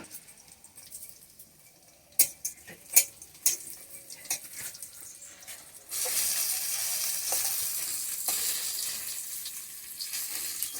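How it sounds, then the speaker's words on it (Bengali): Pumpkin flower fritters frying in oil over low heat, a soft steady sizzle that jumps louder partway through, with a few sharp clinks early on. "আমি আঁচ কমিয়ে কমিয়ে একদম হালকা আছে বড়াটা বাজছি"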